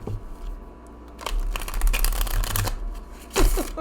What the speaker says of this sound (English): Trying to shuffle this.